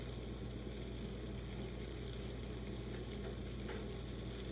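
Steak sears in a very hot pan, a dense, constant sizzle that stays close and loud throughout with a few faint clicks. No one speaks.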